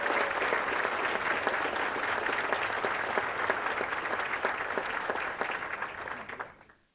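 Audience at Westfield State University's presidential investiture giving a long, sustained round of applause, dense clapping that holds steady for several seconds and then fades out at the end.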